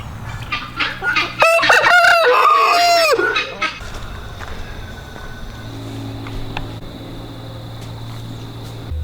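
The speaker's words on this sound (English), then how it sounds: "Those are called guinea fowl." Guinea fowl on a Georgia farm let out loud, harsh repeated calls for several seconds, then go quiet under steady outdoor background noise.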